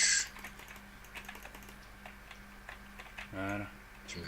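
Clicky computer keyboard typing during a French Minecraft hardcore session, a steady patter of soft keystrokes with occasional sharper taps, fairly quiet under background game noise and a brief louder burst.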